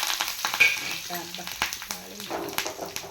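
Spices and garlic tempering in hot oil for bottle gourd charu, a busy sizzle broken by repeated spoon stirs and clinks, close and moderately loud, with brief background voices.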